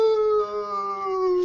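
A dog in snowy Corfu howls in one long, drawn-out, clear tone that slowly slides lower, close and fairly loud.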